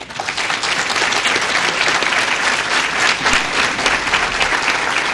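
Loud, dense audience applause fills a Founders Day ceremony hall, a steady close roar of many hands clapping without pause.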